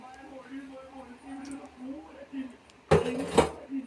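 Washed prawns dropped into a kitchen bowl for a prawn, mango and drumstick curry, heard as two brief, sharp clatters of dish and utensil near the end, following a stretch of talking.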